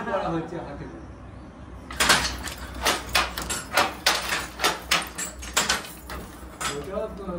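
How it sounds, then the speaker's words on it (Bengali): A handloom shuttle is thrown back and forth during weaving, making a fast, regular series of loud wooden clacks and thumps. A voice is heard faintly at the start before the rhythmic knocking begins. "আচ্ছা, মাকু ফেলা হচ্ছে।"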